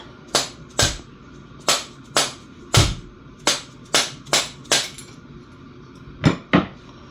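A broken, filthy 75-year-old Ithaca Model 37 20-gauge shotgun has its trigger assembly knocked free with about ten sharp, close metallic taps in an uneven rhythm, with no talking.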